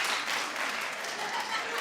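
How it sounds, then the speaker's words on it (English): A steady burst of applause from an audience, many hands clapping together at moderate volume throughout. "Clap if you're familiar with this in the audience."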